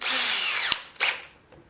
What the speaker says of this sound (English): paddle bit holes is always fun after you drill out the middle